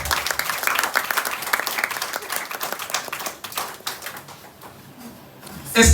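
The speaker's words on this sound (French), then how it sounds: "Est-ce que tu peux acclamer pour le Seigneur?" A church congregation claps and cheers for the Lord, dense rapid applause filling the room, then thinning into scattered claps before a brief loud burst at the end.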